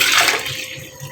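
Water pours from a large glass into a clay pot for beef kunna gravy, a brief loud splashing gush that fades into gentle trickling.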